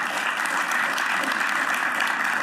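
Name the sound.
audience applause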